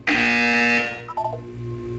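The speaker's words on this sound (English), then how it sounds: "You will hear a buzzer." A buzzer sounds in a Portal 2 video game test chamber: one loud, steady electronic tone lasting under a second, then fainter, wavering tones trailing off.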